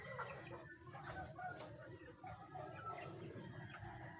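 Chickens cluck faintly at feeding time outdoors, soft scattered calls under steady background noise with no talking.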